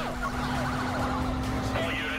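Police car sirens from the Need for Speed Most Wanted (2005) racing game wail in sweeping, overlapping tones over a steady engine drone, staying loud and continuous throughout.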